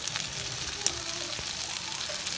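Flour cooks in a pot for huevos rancheros sauce, giving a steady, close frying sizzle with faint crackles and a light stir, continuous and even throughout.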